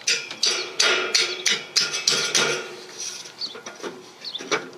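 Repeated metallic strikes of a small-headed hammer driving a nail into the ground to hold mobile home metal skirting ring out in a steady rhythm, about a dozen sharp hits, close and fairly loud, gradually softening toward the end.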